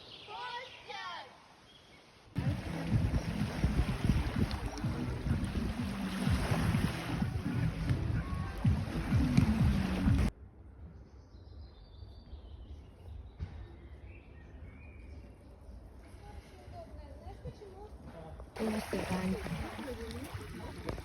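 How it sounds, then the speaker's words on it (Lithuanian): Wind and surf on the Baltic Sea shore at Jūrmala roar in loud gusty spells, easing to a quieter lull in between, with people's voices mixed in. "Baltijos jūros krantas Jūrmaloje."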